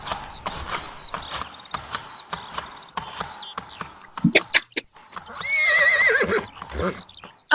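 In a radio drama, a horse being ridden clip-clops with quick rhythmic hoofbeats near the microphone, then lets out a loud, wavering whinny before the hooves fall quiet.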